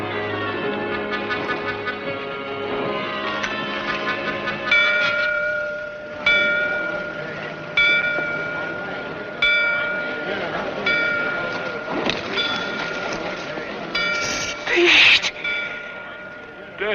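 A bell rings in a dim frontier drama setting, struck again and again at a steady pace about every one and a half seconds, each ring leaving a lingering metallic tone over a low background.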